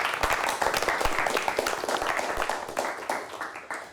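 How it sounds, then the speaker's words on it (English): Studio audience applause at the end of a televised high-school quiz show match, a smaller group clapping with distinct individual hand claps audible, gradually thinning and tapering off toward the end. "we'd like to offer both of you a nice round of applause"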